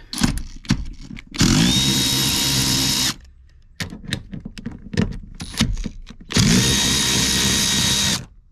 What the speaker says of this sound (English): my handy Milwaukee fuel